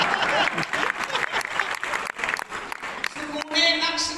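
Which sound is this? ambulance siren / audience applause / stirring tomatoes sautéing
audience applause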